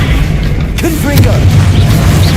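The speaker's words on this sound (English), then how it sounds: "Confringo!" A Confringo spell blast goes off in Hogwarts Legacy as a deep booming burst over continuous low rumbling game ambience, with brief tonal magical swishes around it.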